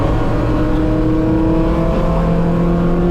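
Race car powering out of a corner exit at GingerMan Raceway, a loud, steady engine roar held at close range for the whole stretch with no voices.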